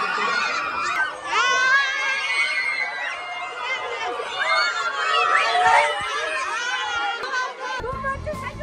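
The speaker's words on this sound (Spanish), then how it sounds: "Ya empezaron los gritos." A large crowd of fans gathered at a music video shoot shouts and screams continuously, many voices overlapping in a dense, loud roar close around the listener.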